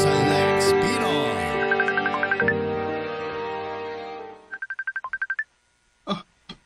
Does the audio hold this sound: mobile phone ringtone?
yes